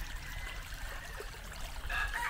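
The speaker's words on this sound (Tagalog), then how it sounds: "Mas maraming tubig. Ang lakas ng bukal." Water from a strong spring runs steadily on a rainy farm in Bicol, a soft continuous flow heard faintly and close.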